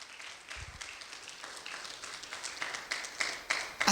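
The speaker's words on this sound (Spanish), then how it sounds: "¿Cuántos le damos un aplauso al Señor por ello," Church congregation breaking into scattered applause for the Lord, quiet at first and building into denser clapping, with some voices mixed in.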